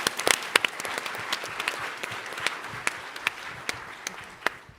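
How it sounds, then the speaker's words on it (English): A conference audience applauds after a startup pitch, with many hands clapping in a loose, crackling patter at moderate volume that fades slightly toward the end. "Give a round of applause."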